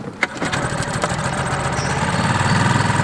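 A brand-new outboard boat motor catches after a pull and settles into a steady, close idle, its continuous buzzing drone running without talk.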